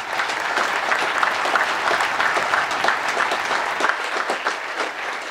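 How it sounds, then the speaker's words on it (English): A summit audience at Lake Tahoe gives a sustained, dense round of applause that holds at an even, loud level throughout with no gaps. "Please give them a big round of applause."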